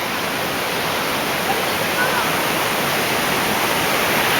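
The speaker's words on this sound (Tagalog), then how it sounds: "Dito ang lakas ng agos." Strong river current rushing past during a family outing, a loud, steady broadband roar of water that stays constant throughout, close by and continuous.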